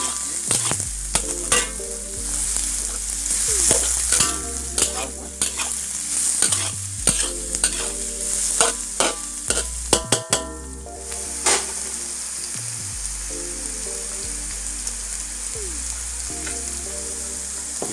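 Sambal tumis with prawns and petai is stirred and fried in a pan, loud sizzling under repeated scraping strokes of the spatula through the first half, then a steadier hiss as stirring eases.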